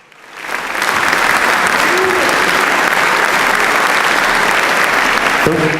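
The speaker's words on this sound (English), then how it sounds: "If we can give them a brief round of applause" An audience gives a round of applause to Franklin Regional's champion wrestlers and their head coach, loud sustained clapping that swells within the first second and holds steady, with a voice briefly heard at the very end.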